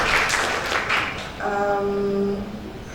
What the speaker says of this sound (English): let us give a big applause first to Dr. Hongki Julie